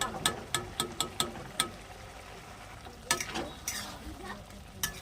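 Ghee goes into a pan of vegetarian banana flower curry with boiled potatoes, giving a quiet sizzle broken by a run of sharp spoon clanks and stirring taps.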